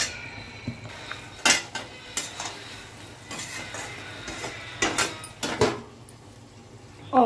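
A metal lid set down over a pot of parwal frying in masala clinks and rattles in a few sharp knocks among scattered kitchen clatter, close and fairly loud, with no talking.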